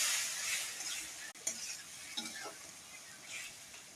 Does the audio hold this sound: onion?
yes